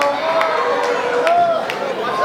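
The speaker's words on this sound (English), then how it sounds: "these fans are chanting for Marty, getting behind him" Wrestling fans in a sold-out crowd chant for Marty Scurll, a loud, steady wash of massed voices with rhythmic chant bursts and a few sharp claps standing out.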